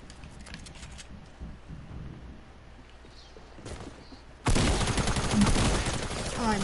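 Quiet game ambience with faint shots gives way to a sudden, loud, sustained burst of rapid tactical SMG fire in a video game that continues to the end.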